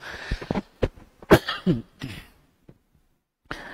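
Several harsh coughs and throat-clearing bursts from a man during a dawn mosque lecture come in an irregular cluster, close to the microphone, then a pause before one more cough.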